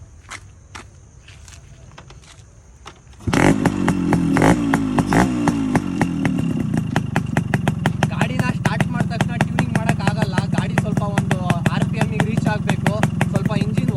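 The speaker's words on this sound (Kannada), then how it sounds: "ಬನ್ನಿ ನೋಡಿ, ಸ್ಟಾರ್ಟ್ ಮಾಡ್ತೀನಿ ಗಾಡಿನ." An RX135 two-stroke motorcycle fires up after a quiet moment, then runs at a rapid, crackling idle with regular pulses, loud and close.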